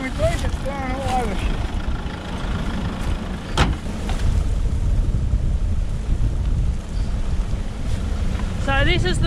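Strong wind gusts buffet the microphone on a bridge, a steady roaring rumble with rising and falling blasts, while voices speak briefly near the start and end.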